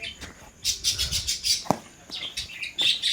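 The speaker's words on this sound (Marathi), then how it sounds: "लवबड आहे की पोपट आहेत" Small birds chirp in quick, shrill bursts, a busy chattering of tweets close by with little pause between calls.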